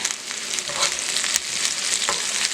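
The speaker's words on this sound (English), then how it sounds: "Again, we're just sauteing." Callaloo greens with habanero pepper sauté in a hot pan, a loud, continuous sizzle with occasional stirring scrapes, close up and without talk.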